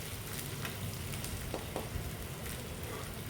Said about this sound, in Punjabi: ਇਸ ਵਿੱਚ ਆਪਾਂ ਐਡ ਕਰਾਂਗੇ ਅਦਰਕ ਇਹਨਾਂ ਦੋਨਾਂ ਨੂੰ ਆਪਾਂ ਹਲਕਾ ਹੀ ਬਰਾਊਨ ਕਰਨਾ ਹੈ